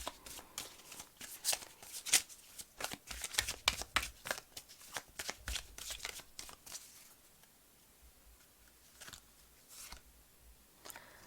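Tarot cards shuffled and laid out, a rapid run of crisp riffling flicks that thins into a few sparse, quieter card snaps, close and soft.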